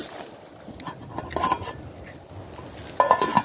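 A pot and utensils clink on a small Esbit camp stove with a windscreen at an outdoor campsite. Light metallic taps and scrapes come in scattered clusters over a quiet background.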